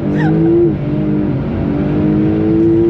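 A 750-horsepower Porsche Taycan Turbo S pulls hard from a standstill, its loud electric drive rising in steady pitch across the whole three seconds, with a brief high tonal sweep at the start.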